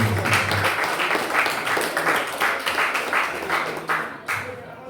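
Crowd clapping and applauding steadily, dense and fairly close, with voices mixed in, tapering off near the end.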